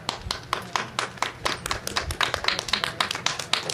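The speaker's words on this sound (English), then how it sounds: "Share the applause." Applause at a community town hall meeting in Point Roberts: a scattered crowd clapping briskly and steadily for several seconds, moderately distant and fairly quiet.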